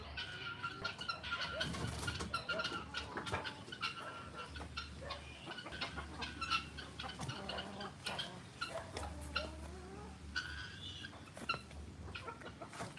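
Guinea fowl on a morning homestead in the Philippines give faint, rapid clucking and ticking calls in irregular bursts, mixed with scattered background clatter and no clear talk.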